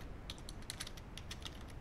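Typing code on a computer keyboard, a steady run of quick, light key clicks at an uneven rhythm, close and fairly quiet over a low background hum, with no talking.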